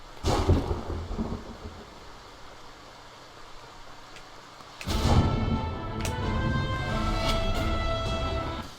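Thunder from a lightning puff enemy in the video game Titan Souls: a sharp crack, then a lull, then a loud rolling rumble with crackling bursts that stays heavy to the end.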